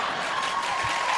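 Comedy show audience clapping in a steady, continuous wash of applause, close and fairly loud for a brief moment.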